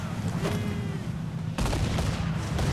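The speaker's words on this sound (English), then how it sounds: "She fires many volleys! Fire! They fire quickly, sir!" Ship cannons fire volleys during a naval battle in Assassin's Creed IV Black Flag, a loud continuous barrage of booming blasts that intensifies sharply partway through, with no talk heard.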